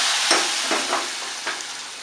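Hot tempering poured into a pot of Kerala-style sambar, giving a steady, close sizzling hiss with a few soft bursts and stirring sounds, no voices.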